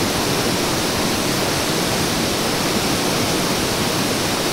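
A stream of water rushing steadily, a dense even hiss close by with no pauses and no voices.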